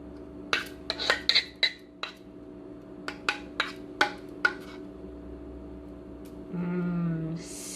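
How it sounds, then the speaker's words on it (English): A spoon scoops dairy-free no-bake pumpkin pie filling, sending a run of sharp clinks and scrapes against the dish that drop to sparse taps, then a brief soft rub near the end. "spoon out the filling in here"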